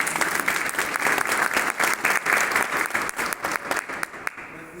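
Indoor audience claps for a zonal management team at an event, a steady burst of clapping with distinct individual claps that thins out near the end.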